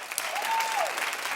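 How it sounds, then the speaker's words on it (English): Studio audience applauding at a daytime talk show, a dense, steady wash of clapping that holds at full strength for over a second, with a faint whistle-like tone rising and falling partway through. "clap if you're the first person in your family to go to college here"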